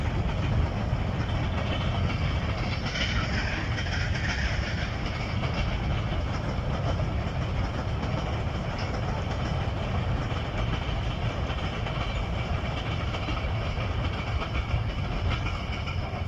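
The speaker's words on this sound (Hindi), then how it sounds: "ये थी 501 अप सुपर पार्सल ट्रेन जिसने मीटिंग रेलवे स्टेशन को बड़ी अच्छी स्पीड में पास किया" The 501 Up superfast parcel train thunders past Meting railway station at high speed, a loud, sustained roar of wheels and rushing wagons with a steady clatter that holds throughout.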